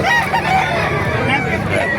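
Several chickens cluck and a rooster crows close by at a chicken market in Calumpit, Bulacan, overlapping calls in a busy yard, with some background chatter mixed in.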